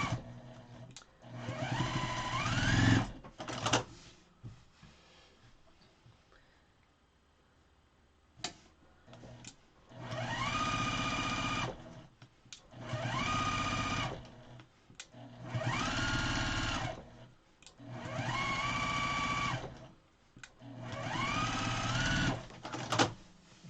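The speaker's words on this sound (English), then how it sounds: "I'm pretending I'm stitching in the ditch." A domestic sewing machine stitches in the ditch along the seams of a quilt-as-you-go quilt block, running in four or five steady bursts of a few seconds each with short pauses between, close and fairly loud with no talk.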